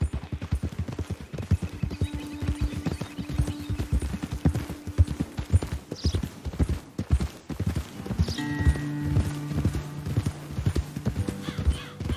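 Horses walking in the Red Dead Redemption 2 video game, hooves clip-clopping in a steady, close rhythm throughout, with a neigh and faint background tones partway through.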